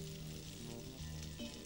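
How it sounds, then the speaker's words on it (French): Asparagus sautéing in butter in a frying pan gives off a close, even sizzle that holds steady throughout, with a faint tonal hum underneath. "on va finir la cuisson des asperges, c'est-à-dire le faire sauter au beurre"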